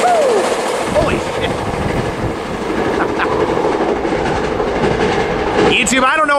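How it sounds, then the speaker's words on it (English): A Metrolink passenger train speeds past on the San Bernardino line, loud and close, with rushing wheel noise, clickety-clack and brief squeals, while excited voices whoop and shout over it. "this Metrolink's flying"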